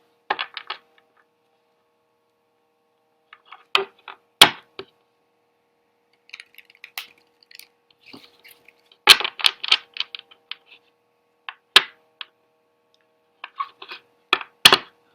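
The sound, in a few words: tarot cards being taken out and handled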